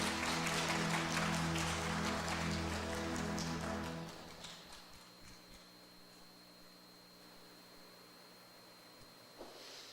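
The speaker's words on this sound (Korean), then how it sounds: "우리 크게 한번 박수합시다." A church congregation at a Sunday worship service claps for about four seconds, a dense, crackling patter over a low hum that then fades into quiet room tone.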